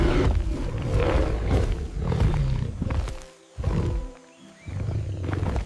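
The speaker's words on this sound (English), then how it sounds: "It's a tiger." A tiger gives a run of deep, loud, rumbling roars and growls, close by, with brief near-silent gaps between the later bursts.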